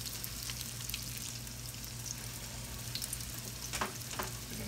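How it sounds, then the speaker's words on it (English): Fish cake patties fry in oil in a skillet, a steady close sizzle with scattered pops and occasional clinks, no voices. "Now all I'm gonna do, y'all, is carefully put them in the oil here."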